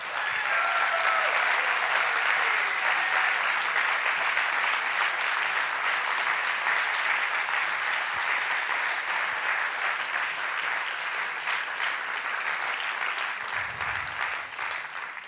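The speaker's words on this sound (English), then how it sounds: "An applause for them," A large audience at a plenary session of the IETM meeting in Athens applauds in a dense, sustained roar of clapping that runs the whole stretch and tapers slightly at the end.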